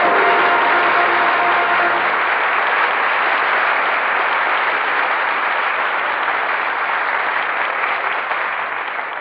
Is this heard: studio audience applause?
yes